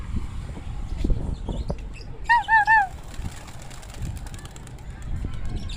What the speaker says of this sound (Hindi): अब हम अपने कबूतरों को उड़ाएंगे ज़रा